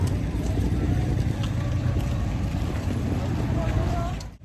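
Engine rumble and wind from a passenger ferry, not a roll-on roll-off type, crossing open water from Dumaguete toward Siquijor Island in the Philippines; a steady, loud low drone with wind buffeting throughout, fading at the very end.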